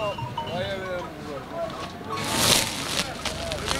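Goats bleating at a Turkish livestock market during Kurban Bayramı, several wavering calls close by amid crowd noise and people talking, with a sharper burst of noise midway.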